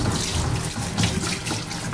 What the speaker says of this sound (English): Get the water going. It'll make it a little easier if you got a sprayer obviously on your faucet.